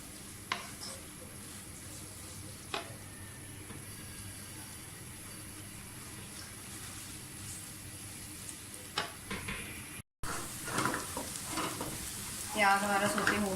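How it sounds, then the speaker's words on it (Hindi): Chopped onions sizzle steadily in a pan while being fried for aloo bhujia, with a few stirring scrapes and clatters throughout and a busier burst of stirring near the end. "प्याज को अच्छी तरह से फ्राई कर लें"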